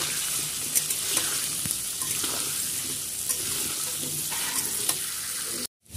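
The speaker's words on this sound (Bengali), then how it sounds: "অল্প একটু লবণ আর হলুদ দিয়ে আলুটা ভালোভাবে ভেজে নেব।" Potatoes with salt and turmeric fry in hot oil in a home kitchen, giving a steady, close sizzle with occasional stirring clicks before it cuts off abruptly near the end.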